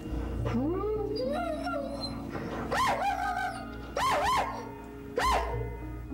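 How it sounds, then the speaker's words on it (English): A trapped dog whimpers and whines in rising, wavering cries, several drawn-out yelps repeating at intervals over a low steady hum. "The sounds of the dog changed quite frequently during the call."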